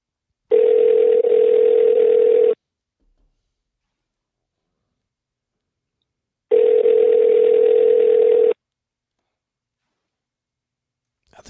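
Ringback tone on an outgoing telephone call: two long steady buzzing rings about six seconds apart, clean and loud, with silence between and after.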